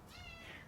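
A single drawn-out cat meow, rising then falling in pitch, close and clear with no other sounds around it.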